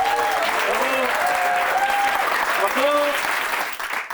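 A television studio audience claps steadily for a few seconds, with a voice talking over the applause.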